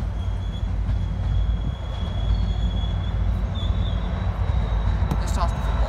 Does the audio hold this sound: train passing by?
yes